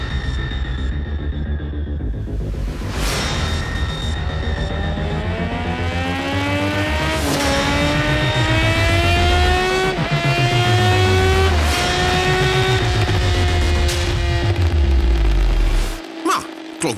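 A loud, modified Suzuki GSX-S1000 motorcycle engine revs repeatedly, pitch climbing through several gear-like steps with sharp pops between, then abruptly cutting out near the end.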